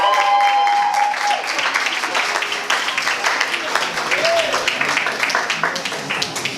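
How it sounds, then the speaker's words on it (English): An audience claps as a woman singer walks onstage at the Mela Talent Quest semi-finals. The applause is continuous and moderately loud, with a brief tonal sound and some crowd noise mixed in. "So please give a massive round of applause as she comes to the stage"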